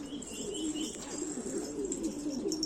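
Pigeons coo in a low, continuous rolling murmur from a loft of fancy Turkish breeds, with a few faint chirps and a brief wing flutter over steady background hiss; no talking.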